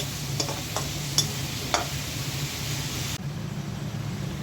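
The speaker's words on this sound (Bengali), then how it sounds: "দিয়ে দিচ্ছি পাবদা মাছ মশলাটা কষিয়ে নিয়েছি" Pabda fish goes into a pan of sautéed spice paste, which sizzles steadily and loudly throughout, with a few brief scraping stir sounds over the frying before the noise drops slightly near the end.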